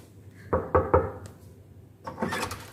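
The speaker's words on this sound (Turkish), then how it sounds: "Teşekkürler kapıyı açtığın için" A dormitory room door opens with a few close wooden knocks and clunks of the handle and latch, followed by a brief rubbing, sliding swish as it swings.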